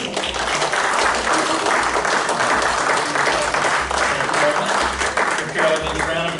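A stage-show audience breaks into loud, sustained applause, dense clapping that carries evenly throughout with no pause.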